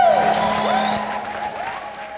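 Church congregation breaks into applause and joyful ululation, a steady wash of clapping with high wavering trilled voices sliding over it, fairly loud and continuous throughout.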